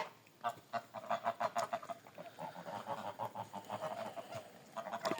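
Large grey domestic geese honk repeatedly at close range, a loud, overlapping run of nasal calls that keeps going without a break.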